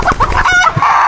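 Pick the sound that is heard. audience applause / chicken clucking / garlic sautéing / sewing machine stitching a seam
chicken clucking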